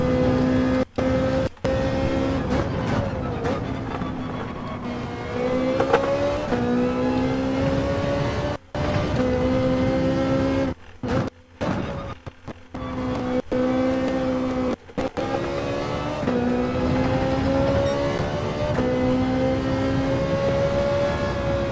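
Race car engine in Gran Turismo 7, likely a Ferrari, rising and falling through gear changes with sharp revving sweeps and brief drops as throttle lifts, steady and close across a lap.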